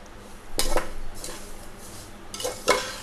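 A spoon stirs sugar into saffron milk in a metal pot, with a few close, bright clinks and scrapes against the side in two short bursts and quieter stirring between them.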